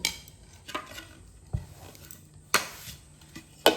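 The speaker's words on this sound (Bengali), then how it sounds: "ওপর থেকে একটা প্লেট চাপা দিয়ে মশলাটা খুব ভালোভাবে মিশিয়ে নেব।" Fried tomato chips are tossed with spice mix under a plate: a few sharp clinks and knocks of plate against dish at uneven intervals over a soft rustle, close and without speech.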